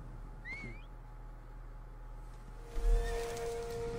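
Horse in the Assassin's Creed Origins video game whinnying, one neigh early and a louder, fuller second whinny a few seconds later over a low game ambience.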